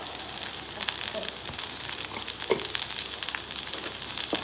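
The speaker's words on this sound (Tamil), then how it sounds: "கோவக்காய் ஒரு அளவு வதங்குற அளவு, கொஞ்சம் வேகிற அளவு நல்லா வதக்கிடலாம்" Ivy gourd (kovakkai) sautés in a pan for chutney, giving a faint, even crackling sizzle dotted with small pops and light stirring scrapes.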